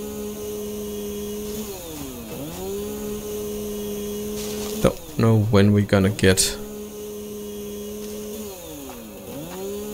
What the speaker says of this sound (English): Did the chainsaw just take out a stone?